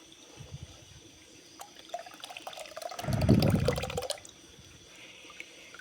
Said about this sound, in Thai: มากรอง กรองให้น้ำออกนะคะนี่